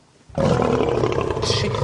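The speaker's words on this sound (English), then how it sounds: "This is the sound of a lion." A lion lets out a deep, sustained roar that starts abruptly after a brief quiet moment and holds loud and full, rumbling steadily to the end.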